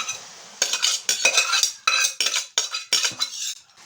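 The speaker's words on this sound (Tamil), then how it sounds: "இந்த அவரைக்காயை அதில் கொட்டிடணும்" Cooked broad beans are tipped and scraped into a metal pan of sautéed onion and tomato, a series of sharp utensil scrapes and clatters in irregular bursts, close and clear.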